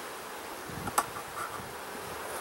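A faint, continuous buzz of honey bees in a hive hums throughout, many bees droning together, with a brief click near the start.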